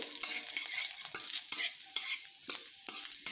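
Nigella seeds and chopped garlic sizzle and crackle in hot oil in a pan, with a spoon stirring through them in repeated scraping strokes roughly every half second, close and steady, with no voices.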